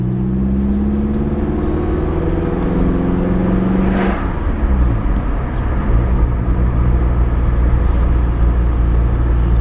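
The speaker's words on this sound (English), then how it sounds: "Let's do a test drive." A 1993 Saab 900 Turbo-S with a 2.0-litre 16-valve engine on a test drive: steady loud engine drone with rising tones as it accelerates, a brief whoosh midway, then continued cruising hum with no talk.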